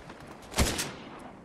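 A single gunshot from a weapon in the video game Fortnite, with a sharp burst followed by a short decaying tail, fairly loud and without speech.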